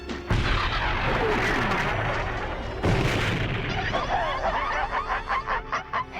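Cartoon weapons fire in a Transformers G1 episode: two loud blasting bursts, followed by a rapid run of pulsing shots that rings on and fades.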